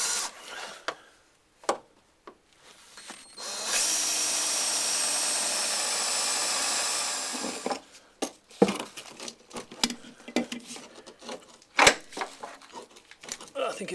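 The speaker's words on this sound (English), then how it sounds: "Then using the spot weld drill, positioned as accurately as possible," A spot weld drill bores out spot welds on the floor section of an MGB during restoration. It makes one sustained, harsh, grinding burst of about four seconds, with scattered clanks and knocks before and after.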